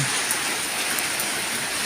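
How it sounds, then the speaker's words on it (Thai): Heavy rain pours steadily and loudly, a dense unbroken hiss of water falling close by with no voices. "ฝนตกหนักเลยครับ"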